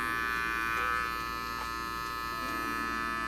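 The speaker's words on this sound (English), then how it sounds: "Again, now my clipper tilt is changing." Electric hair clippers cutting a taper fade hum with a steady, close buzz throughout, the tone shifting slightly as the clipper tilt and pressure change, with no voices.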